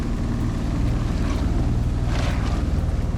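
Williams Minijet tender boat fitted with a 60hp engine running at high revs, a loud continuous motor drone mixed with wind and water rush, no talk.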